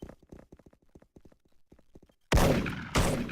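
A burst of loud gunfire from the online shooter game Special Force erupts after a stretch of quiet, choppy voice-like sounds, then rings on densely for about a second before a second sharp volley.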